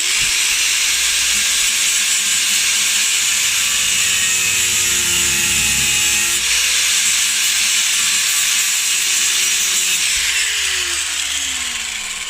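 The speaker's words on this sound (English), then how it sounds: "just try and grind them flat" A grinder grinds parts flat on a Range Rover L322 4.4 M62 water pump during a thermostat fit, with a loud, continuous abrasive hiss held close and steady for the whole stretch.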